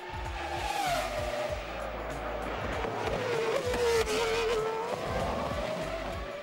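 A Cosworth-built racing car engine screams at high revs, its pitch sliding down and then climbing as it shifts, with tire squeal mixed in; loud and close, no talking.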